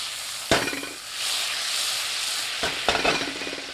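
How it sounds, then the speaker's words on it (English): Half a stick of butter melting and sizzling in a cast iron skillet, a steady close hiss that swells and settles, broken by a couple of sharp clanks as the pan is handled. "We're melting half a stick of butter."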